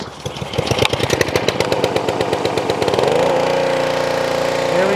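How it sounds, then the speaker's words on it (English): A Honda engine on a Ryobi pressure washer is pulled and catches with a rapid chugging burst, then settles into a steady, loud, close-up running drone. "So engine on to the start, and let's give it a rip"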